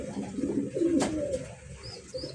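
A pigeon coos softly in low, rolling notes close by, with a brief sharp tap in the middle and faint chirps after.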